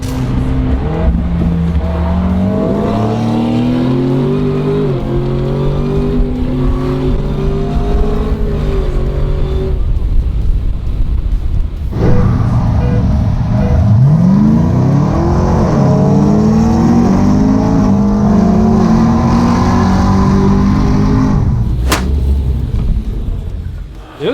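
A tuned 2012 McLaren 12C with an 800 package and a Camaro accelerate hard side by side, engines roaring loudly through repeated upshifts. A brief lull comes before another strong pull, with faint talk underneath.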